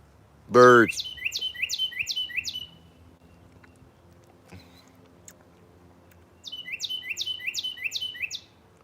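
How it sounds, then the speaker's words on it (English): Birds chirp in quick, sharp descending bursts, a short volley at the start after a brief thump and another near the end, with a quiet stretch between. "Birds."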